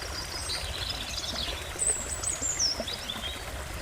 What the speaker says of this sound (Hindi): फिर कुछ समय चलने के बाद अरुण को पानी के बहने की आवाज सुनाई दी।